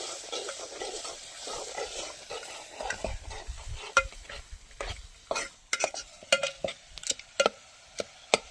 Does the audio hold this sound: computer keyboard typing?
no